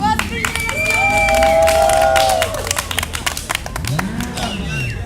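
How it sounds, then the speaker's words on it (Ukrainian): Audience at a stage show breaks into dense applause and scattered cheers halfway through, following whooping and whistling voices, with a single shout near the end. "бачу аплодисменти"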